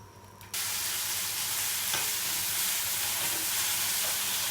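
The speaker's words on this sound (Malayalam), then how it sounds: "ജസ്റ്റ് അതിൻ്റെ വെണ്ടയുടെ വഴുവഴുപ്പൊന്ന് കളയുന്നത് വരെ ഒന്ന് വഴറ്റിയാൽ മതി." Okra being sautéed in a pan for sambar, a steady loud hissing sizzle that starts abruptly after a quiet half second and continues evenly, with faint stirring scrapes.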